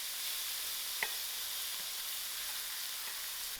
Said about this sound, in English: To my oil, I'm going to add in my onion. I'll allow this onion to fry out.